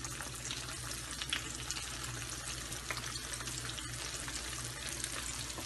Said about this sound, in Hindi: अब हम फ्राई करेंगे।